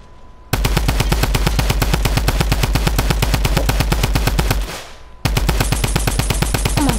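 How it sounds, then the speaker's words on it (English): A drum gun fires in a shooter video game, one long rapid burst of loud, evenly spaced shots, a brief pause, then a second sustained burst. "I hear a drum gun."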